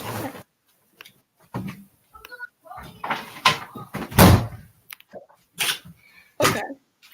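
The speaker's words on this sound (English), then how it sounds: "I just need to close the door." An indoor door is pushed shut among a scatter of sharp knocks and thuds, with voices talking around it.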